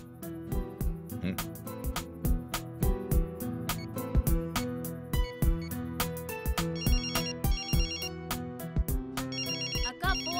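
A mobile phone ringtone plays a bright, repeating electronic melody, loud and steady for about ten seconds with no talk over it.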